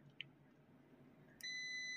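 A digital multimeter in continuity mode checks a Tata EDC17C55 engine control board with a short-circuit fault: after a faint tick and low room hum, a steady high-pitched beep starts and holds to the end.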